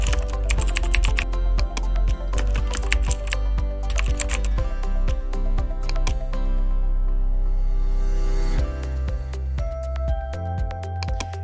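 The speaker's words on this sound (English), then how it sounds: "enter your card details and billing information" Card details are typed on a computer keyboard in quick, continuous bursts of close, crisp key clicks over a steady tonal background.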